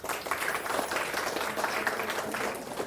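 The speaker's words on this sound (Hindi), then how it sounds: "ताली तो बजाओ।" An audience claps steadily in applause at a spiritual talk in Bhiwandi Peace Park, Mumbai, a dense, even wash of hands lasting the whole moment with no clear break.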